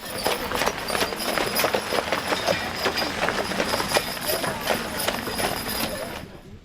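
Steady clip-clop of horse hooves with rattling, rolling wagon noise underneath on a Texas wagon ride, a continuous rhythmic clatter that fades near the end.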